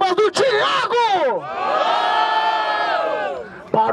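At a rap battle in Barueri, a crowd roars and shouts in drawn-out cheers for the rapper Thiago's rhymes, loud and sustained, with a few sharper yells at the start and end.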